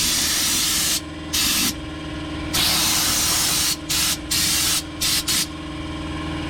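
Fluid Film undercoating sprayed under a Jeep: loud, close aerosol hissing in bursts, with several longer sprays and a few quick short ones separated by brief gaps of lower background noise.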